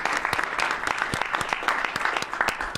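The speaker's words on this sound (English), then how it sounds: "Please clap." An audience at a presidential press event breaks into steady applause, dense overlapping claps that stay lively and even throughout, with a few sharper individual claps standing out near the listener.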